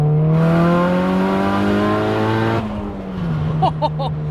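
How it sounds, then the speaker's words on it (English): A Nissan Silvia S15 turbo engine revs hard and loud toward 8,000 RPM, its pitch climbing, then drops off with a whooshing turbo flutter and a couple of sharp chirps. "Oh, that turbo noise"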